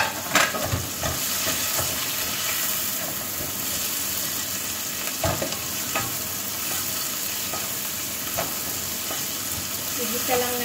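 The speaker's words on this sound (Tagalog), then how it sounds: "Pagluto na ang prawn guys" Prawns stir-fried in a hot pan for a simple home-cooked dish, giving a loud, steady sizzle broken by scraping strokes of the spatula.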